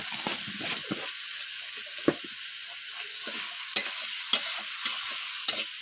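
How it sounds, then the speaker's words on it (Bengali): Hilsa fish gills fry in a pan with salt and turmeric, giving a steady soft sizzle. Several sharp scraping clicks come from stirring, with no voices. "তারপরে আমি ভালো করে নেড়ে নিব।"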